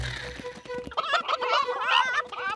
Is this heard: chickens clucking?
yes